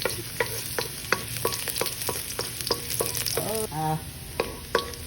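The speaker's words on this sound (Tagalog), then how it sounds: "First, we're gonna saute the garlic." Garlic sautéing in a frying pan, with sizzling frying and a steady run of clicking stirring strokes at a fairly regular rhythm, close and moderately loud.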